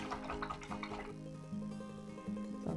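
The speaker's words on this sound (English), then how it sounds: "So rinse that brush out." A paintbrush swishes and clinks in a water container, with soft splashy rinsing up front that gives way to faint ringing tones, quiet and close.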